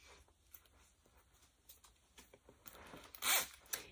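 A zipper on a knitted sweater is worked in short bursts of light zipping and rustling, close to the microphone. One louder, longer pull comes near the end.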